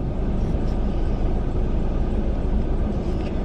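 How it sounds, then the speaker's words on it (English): A car makes a steady, loud low rumble that drones on unbroken for several seconds, with no voices over it. "My car is like making a weird noise again."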